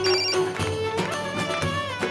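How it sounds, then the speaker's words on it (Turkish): A mobile phone rings with a bright, melodic electronic ringtone that plays a looping tune, steady and fairly loud for about two seconds, with no voices over it. "telefon çalıyor. Kim arıyor beni?"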